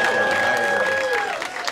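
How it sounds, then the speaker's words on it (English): A crowd at a comedy show claps and cheers loudly, with a sustained whistle running over the noise. "How did John get more applause than me, that piece of shit?"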